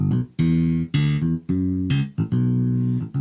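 Short bass phrases from a Korg Krome synthesizer pattern play as a key is held, the notes stepping in a regular, punchy rhythm and cutting off at the end, alone without talk.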